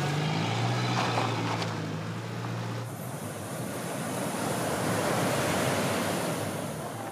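Ocean surf rolls onto a beach near Accra, Ghana, in the evening, a steady broad wash of breaking waves with wind noise across the microphone, and a low droning hum in the first few seconds.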